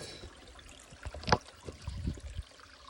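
A small woodland brook trickles steadily along a hiking trail, soft water babbling with a few brief louder splashes, close by and with no voices.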